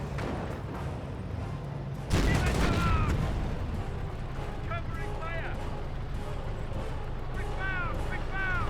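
MG42 machine gun in Company of Heroes battle, sustained fusillade of gunfire with a louder burst near the start, continuing under a commentator's voice.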